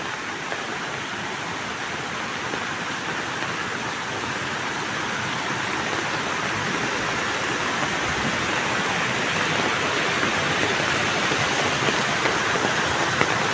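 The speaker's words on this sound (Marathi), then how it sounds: "हा बघा केवढा मोठा धबधबा." A large waterfall roars during heavy monsoon rain near a village temple, a steady, dense, broadband rush that stays loud and unbroken throughout, with rain hiss blended in and no voices.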